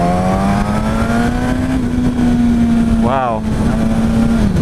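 A 2016 Suzuki GSX-S1000 motorcycle pulls hard in a loud, rising engine drone that climbs smoothly, briefly dips as a gear changes, then keeps pulling, with a short exclamation from the rider over it.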